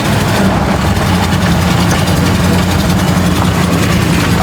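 A vintage 52-year-old Jeep Wagoneer's engine runs with a loud, constant low rumble and rough vibration, steady throughout with no voices.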